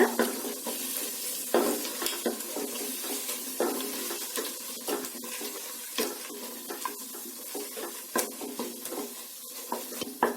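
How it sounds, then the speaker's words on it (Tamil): Masala sautés in a pan for kuska biryani, with near, irregular scraping and stirring clatter over a low sizzle. Sharp utensil knocks recur throughout the ten seconds. "இப்போ இதெல்லாம் சேர்த்துட்டு இந்த மசாலாவுடைய பச்சை வாசனை போகிற அளவுக்கு நல்லா வதக்கிடுங்க."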